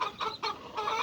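Chickens cluck in short, close bursts, a few choppy calls following one another in quick succession with no talk over them.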